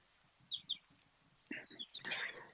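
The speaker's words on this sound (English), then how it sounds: "I love the birds behind you" Birds sing in the background behind a speaker on an online audio call: two quick chirps early, then a busier flurry of calls and rustling, all fairly faint over a low murmur.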